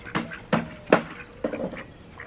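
A duck preening in a coop gives four short, raspy quacks spaced about half a second apart, fairly close and clear over quiet farmyard background.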